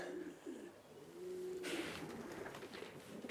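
Pigeons cooing at a loft while young birds are awaited, soft low rolling coos repeating a few times at moderate distance, with faint ambient noise and a brief rustle.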